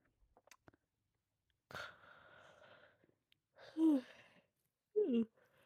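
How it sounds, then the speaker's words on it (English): A breathy exhale, then two drawn-out yawns, the second with a short voiced, falling groan, close and quiet after faint rustling. "It's a real yawn. That's a real yawn."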